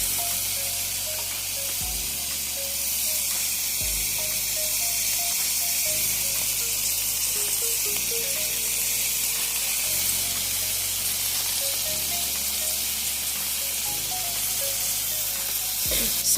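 Ossobuco sizzles steadily in a pan with basil leaves, a constant close hiss of browning meat under soft background music.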